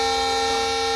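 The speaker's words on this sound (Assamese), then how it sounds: "ট্ৰেইন হৰ্ণ মাৰিছে" A train horn blasts loud and close, one sustained steady tone held for the full second with no speech.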